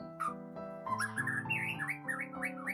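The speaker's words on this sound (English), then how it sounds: "Their song is a varied series of loud whistles and flute-like notes." A white-rumped shama sings a varied run of loud, fluting whistles and melodic phrases, clear and close, continuing without pause.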